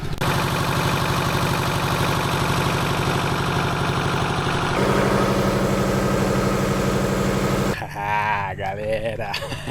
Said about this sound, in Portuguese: Então esse barulho que vocês estão escutando é gerador elétrico.